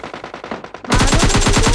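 A video game UZI submachine gun fires one fast, continuous loud burst of rapid shots after a short stretch of quieter, rhythmic in-game sound.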